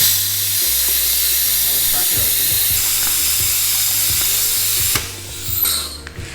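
A vacuum suction bleeder draws brake fluid from a Yamaha MT-07 motorcycle with a steady, loud hissing hum, punctuated by rhythmic clicking pulses, before the sound drops and shifts near the end.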